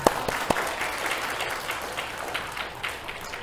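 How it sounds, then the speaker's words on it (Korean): A church congregation at a Sunday service claps together in a short burst of steady, moderately loud applause. "박수 좀 해주세요"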